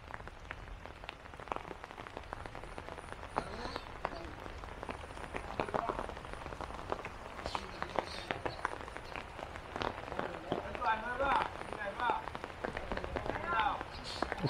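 Morning rain falls outside as a steady patter on surfaces with scattered drops, fairly faint, while people talk softly now and then.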